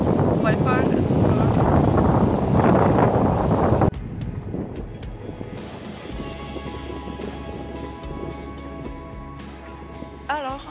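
Wind rushes over the microphone while cycling on a bike path, a loud blustery roar that drops abruptly to a quieter rumble with faint background noise.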